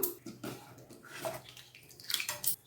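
Water is poured into a cooking pot for mudakathan keerai (balloon vine leaf) soup, making a few short splashing, gurgling bursts close by, with no talk.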